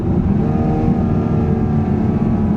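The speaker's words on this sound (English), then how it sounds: "we will start playing with the paddles here, try some downshifts" A 2021 Acura TLX Advance is shifted down with the paddle shifters while its engine hums and revs steadily and loudly from close inside the car.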